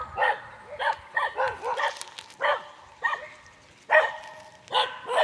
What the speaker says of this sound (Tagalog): At ang daming na namang aso dito.